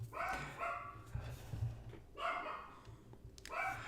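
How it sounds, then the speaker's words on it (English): A dog barks indoors in short bursts, three or four clustered yips and barks, fairly close but not loud, with quiet gaps between them. "My dog's barking, by the way."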